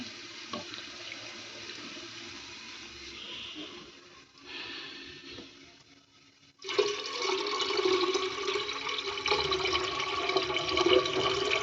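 Water trickles quietly, then gushes in a strong steady stream into a cooking pot, splashing continuously.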